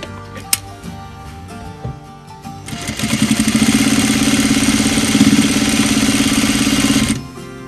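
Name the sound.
sewing machine sewing a hole in a pet bed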